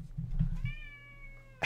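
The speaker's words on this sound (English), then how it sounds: "Get your cat butt off the screen" A cat meows once nearby, a drawn-out tonal call preceded by some low thumping, with a sharp noisy burst at the very end and no talk.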